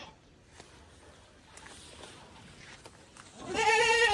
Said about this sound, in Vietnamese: Chuẩn bị thả dê chưa?